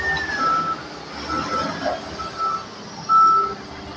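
A large truck reverses at a work site near low-hanging wires, its backup alarm beeping in spaced tones over a continuous diesel engine rumble.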